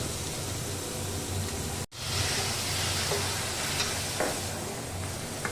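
Taro pieces sautéing with spices in a hot pan give a loud, continuous sizzle with a brief dropout partway, plus a few faint scraping stirs.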